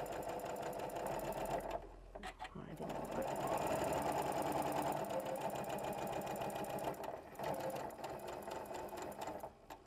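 Sewing machine back stitching at the cut edge of a seam while sewing a rolled hem, running loud and steady close by, with a brief pause near two seconds and another around seven, and a voice talking over it.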